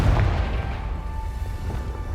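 Confringo blasting spell going off in Hogwarts Legacy, a heavy deep boom at the start that decays into a rumbling, crackling tail over about two seconds.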